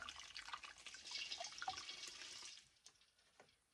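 Water pours from a 5-litre bottle into the pot of a Syngonium Mottled plant being repotted, a soft splashing gush that runs steadily then trickles off into faint drips.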